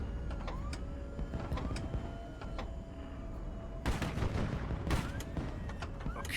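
Naval weapons aboard warships in the HighFleet video game fire in scattered sharp bursts over a low, steady rumble, with the heaviest volleys about two thirds of the way through and no voices.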